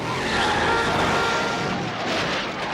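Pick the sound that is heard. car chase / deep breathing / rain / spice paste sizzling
car chase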